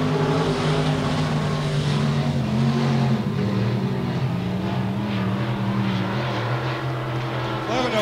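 IMCA Sport Mod race cars roaring around RPM Speedway, a loud continuous engine drone with shifting pitches as several cars pass, with an announcer's voice faintly present underneath.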